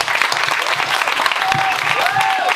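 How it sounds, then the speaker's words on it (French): An audience at a stand-up comedy show applauds, a thick, continuous wave of clapping with some whoops and cheers rising over it toward the end. "Je sais que vous avez déjà applaudi"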